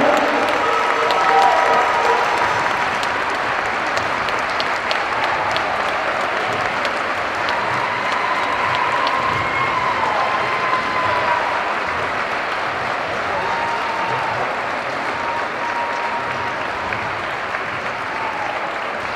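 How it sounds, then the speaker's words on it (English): A large crowd in a high school gym at a boys' basketball senior night claps continuously and evenly for the whole stretch, a dense, loud wash of applause with faint cheering mixed in. "one last round of applause for all of our seniors tonight"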